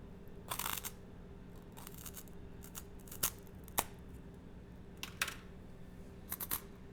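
Crunchy bites into very burnt, dark toast, a handful of sharp brittle cracks spaced through a quiet stretch, close and crisp with no talking.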